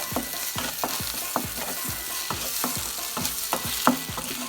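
Egg mixture frying over low heat in a pan for an egg bread sandwich, with a constant sizzle and rapid, regular scraping strokes of a spatula, close and steady.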